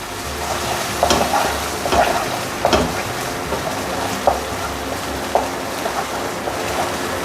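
Thai chu chee curry paste stir-fried in a pan over medium heat, a steady close sizzle with intermittent scraping strokes of a utensil throughout.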